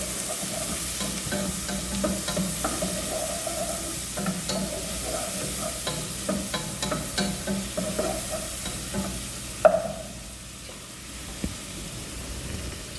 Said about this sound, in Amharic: ከዛ እዚህ ጋር ሽንኩርቴን ጨምራለሁ። ሽንኩርቴን አበስለዋለሁ።